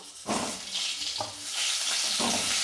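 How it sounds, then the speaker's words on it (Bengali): Small potatoes frying in a pan of hot oil for a koi fish curry with cumin, giving a steady broadband sizzle with a few louder bursts as they are moved, close by and with no talking. "আলুগুলোকে দিয়ে ভালো করে আলুগুলো ভেজে নেব"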